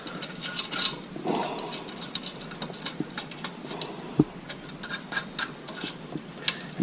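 Fasteners are run in and snugged on a lift arm, heard as a string of close, crisp ratchet clicks in short irregular bursts, with occasional metallic taps and small clanks.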